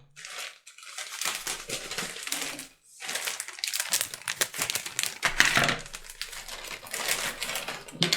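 A plastic bag of LEGO Technic parts crinkles and rustles loudly as it is torn open and handled up close, with small parts shifting inside.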